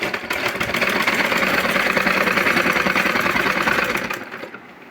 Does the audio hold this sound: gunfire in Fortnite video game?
no